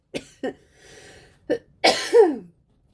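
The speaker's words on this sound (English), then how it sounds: "I didn't intend to cough there." A few short, sharp coughs followed by a harsher throat-clearing cough, close up with brief silences between them.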